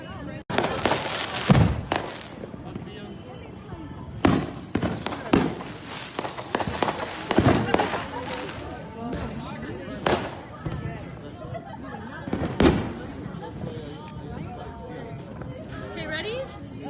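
Fourth of July celebration fireworks burst at irregular intervals, with sharp cracks and booms of varying loudness and some distant pops, while people chat quietly in the background.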